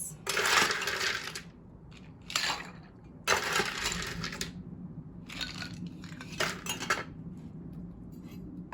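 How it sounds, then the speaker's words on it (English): Ice is scooped for a Bloody Maria cocktail, a few close, crunchy clinks and rattles of cubes coming in short separate bursts with quiet gaps between them. "Scoop your ice."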